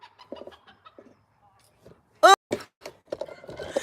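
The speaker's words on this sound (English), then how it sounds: "He picks on my big chickens." A chicken gives a loud, sharp squawk between soft clucks, with a person talking nearby.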